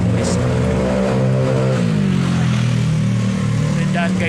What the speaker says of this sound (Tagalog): may mga motor na tumatakbo